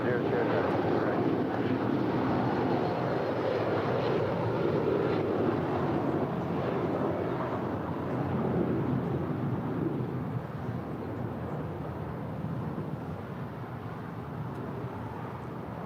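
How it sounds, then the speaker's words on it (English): A United airliner departs LAX bound for Newark, a loud sustained jet roar heard from a distance that slowly fades over the span, with wind buffeting the microphone and chatter from an air traffic control radio underneath. "That was United 792 departing LAX for Newark"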